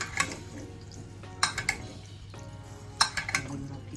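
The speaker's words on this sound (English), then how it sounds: "Baste it again and turn it around." Lamb roast being basted and turned in a roasting pan, with clinks and scrapes of metal utensils against the pan in two short clusters and a soft liquid drip underneath.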